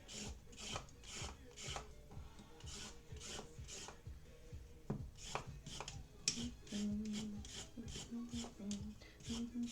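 A peeler scrapes carrots in quick, rhythmic strokes, each a short rasping pass, close and fairly quiet, with faint background music.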